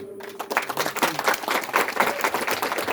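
Applause at a village square opening ceremony in Yağmurlar village, a crowd clapping loudly and steadily after a brief quiet start, outdoors with a few voices underneath.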